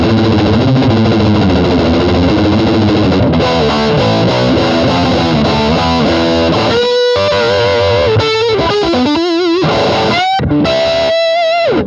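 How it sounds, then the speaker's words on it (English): An electric guitar runs through a Big Muff fuzz pedal, loud and thickly saturated, first chugging dense chords and then breaking into choppy stabs and sustained, singing lead notes with sharp stops between them. "that Big Muff sound, it's, you know, you hear it all over the 90s grunge stuff"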